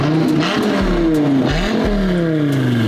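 Dodge Viper supercar engine revs repeatedly, loud and close, each blip rising and falling in pitch over a steady throaty idle, with no talking.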